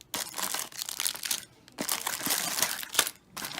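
Packaging crinkles and rustles in bursts as VR cable management hooks are unpacked from their individual wrapping, close and fairly quiet, with short pauses between handling.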